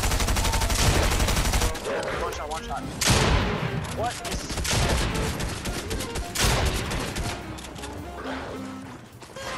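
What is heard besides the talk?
gunfire in the video game Fortnite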